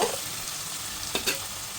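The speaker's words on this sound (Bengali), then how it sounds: "হাফ চামচ পরিমাণ লবণ দিয়ে এখন খুব ভালোভাবে এটাকে ভেজে নিতে হবে" Rice with turmeric and salt fries in a pan, giving a steady close sizzling hiss broken by a couple of sharp stirring scrapes; no one speaks.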